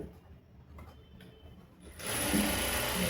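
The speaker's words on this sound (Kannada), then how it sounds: "ಸ್ಟ್ರೈಟಾಗಿ ಒಂದು ಹೊಲಿಗೆ ಹಾಕೋಬೇಕು. ಇದೇ ಸೇಮ್ ಈ ಕಡೆ ಲೈನಿಂಗ್ ಮೇಲೆ ಹೊಲಿಗೆ ಹಾಕೋಬೇಕು." A sewing machine stitching a blouse lining starts up after quiet handling sounds, then runs as a steady, close mechanical whir for the last second.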